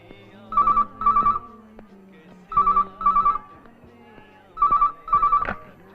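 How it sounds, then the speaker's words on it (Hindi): Electronic telephone ringtone sounding in three pairs of short trilling bursts with pauses between, loud and near, with faint background movement. "पता नहीं कौन है, फोन कर रहा है, बात नहीं कर रहा"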